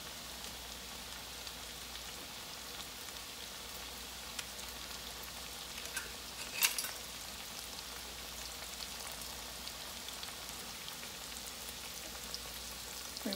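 Steak frying in a pan gives a faint, steady sizzle and hiss throughout, broken by one brief click partway through.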